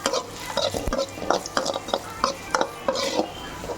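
Gongura thokku ingredients are stirred and lightly roasted in a pan, a rhythmic series of close scraping and clinking strokes over a soft steady sizzle, with no one speaking.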